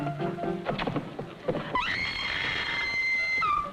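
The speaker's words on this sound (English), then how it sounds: "Do I hear a lady screaming?" A woman in a 1953 film lets out a long, loud, sustained scream that follows a few moments of muffled clattering and talk.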